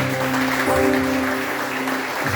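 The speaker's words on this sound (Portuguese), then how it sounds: "Você pode aplaudir esse Deus que faz" A church congregation claps during a worship service while sustained organ or keyboard tones hold underneath, the clapping continuous and moderately loud.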